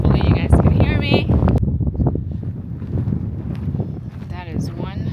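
Strong wind buffets the microphone on a long-distance hiking trail, a loud continuous low rumble with gusts throughout, while a person talks over it.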